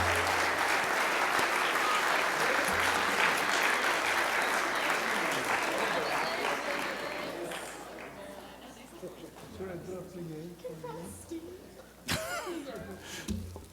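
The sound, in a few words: applause for Crystal Apple Award winners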